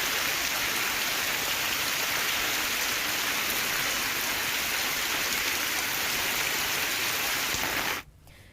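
Steady rain in South Gujarat, pouring without a break for about eight seconds as a dense, even hiss of drops on the ground, then cutting out sharply near the end.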